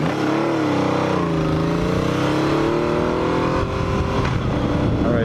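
A 1980 Yamaha XS850 Special motorcycle engine revs loud and close, its pitch climbing and falling steadily through the whole stretch with no talk over it.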